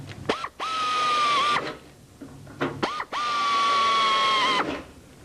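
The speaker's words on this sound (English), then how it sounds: "we're going to drill the rest of the holes on the forward spar" A drill boring holes in the forward spar of a Vans RV6 kit aircraft's empennage, in two long whining bursts, each with a sharp rising start and a steady high tone before cutting off, loud and close with no talking.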